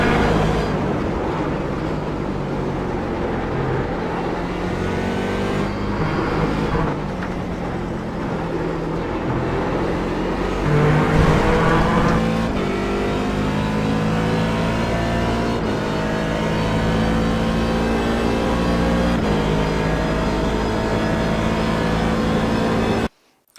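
A Daytona Prototype C7 race car at Sebring drives through the final turn and then accelerates hard. The engine note climbs and shifts in a loud, continuous roar heard from on board, with no talking over it.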